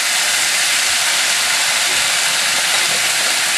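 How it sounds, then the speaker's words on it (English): Wonton-wrapped gochujang pork frying in a hot pan, a steady, loud, close sizzle with a dense hiss that holds evenly throughout, no voices. "That is the right sizzle sound that you want to hear."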